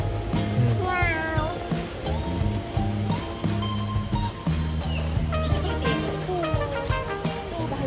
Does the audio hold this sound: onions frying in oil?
no